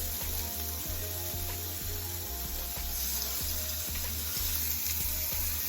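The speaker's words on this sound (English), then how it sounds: "So we'll just kind of put those in the frying pan." Steady sizzling and frying crackle of burgers in a frying pan, close and continuous, with a faint hum underneath and no talking.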